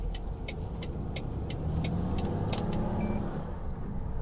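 A heavy goods vehicle engine runs with a steady low rumble inside the cab, loud and continuous, with a faint series of regular ticking clicks, likely an indicator, over the top.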